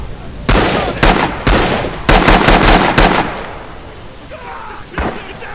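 Garand rifle shots in the World War II shooter Rising Storm: about eight sharp, loud reports in an uneven cluster, some in quick succession, then a short lull and one last shot.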